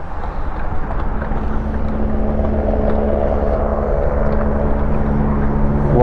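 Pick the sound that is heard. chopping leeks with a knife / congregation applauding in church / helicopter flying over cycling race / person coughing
helicopter flying over cycling race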